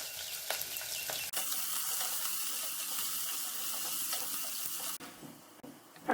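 Onions sizzle steadily in hot oil for a Tamil-style mushroom rice, the frying loud and continuous with a brief stir or clatter near the start and a few small breaks toward the end; no one speaks.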